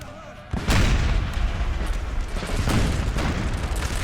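A cannon fires canister shot in Napoleon Total War: a sudden loud boom kicks off a dense, sustained roar of battlefield gunfire and rumbling that continues to the end.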